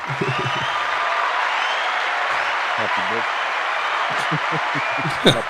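Clapping sound effect on a podcast, a continuous applause bed running under intermittent nearby talk, ending with a brief sharp knock.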